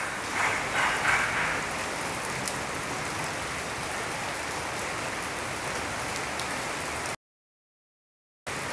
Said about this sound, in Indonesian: Hujannya makin deras teman-teman.